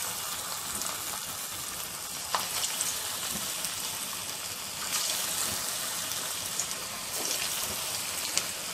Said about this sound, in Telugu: నూనె కాగిన తర్వాత తయారు చేసుకున్నటువంటి వడలను వేసుకుందాం.